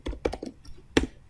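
Python code for a Kivy app being typed on a computer keyboard, a few quick clusters of key taps with a short pause, close and fairly quiet, no talking.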